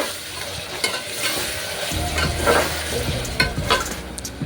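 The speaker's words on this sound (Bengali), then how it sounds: "এখন আমি আদা রসুনের পেস্ট দিয়ে দিচ্ছি। তো আদা রসুনের পেস্ট দিয়ে আদা রসুনটা হালকা একটু ভেজে নেব।" Ginger-garlic paste fries with already browned onions in a cooker, sizzling close and steadily while a spoon stirs and scrapes in repeated strokes, with no one talking.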